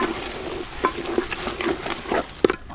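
Prawn biryani masala stirred in a hot pan, a steady sizzle broken by several scraping strokes of the spoon, close and moderately loud, no voices.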